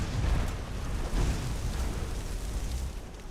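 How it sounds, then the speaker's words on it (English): Spell explosion in Skyrim: a dense, loud rumbling blast of broadband noise with heavy low-end booms that pulses and sustains for over three seconds without pause. "The explosion is so big on this spell"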